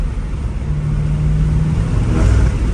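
BMW M5 Competition fitted with downpipes, its engine droning loudly and steadily with a low hum, building toward a rev near the end, close by with no talk.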